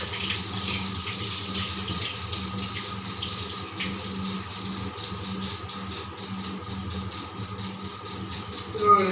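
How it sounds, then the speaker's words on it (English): Rinse water poured off soaked sabudana (sago pearls) into a kitchen sink, a steady splashing trickle with a faucet-like hiss and a low background hum, easing off toward the end. "I'll just drain out this water."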